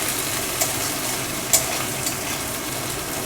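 Crushed coriander leaves, ginger and chili frying in a pan over medium heat for a pumpkin and potato curry, giving a steady close sizzle with a few small pops and spatters.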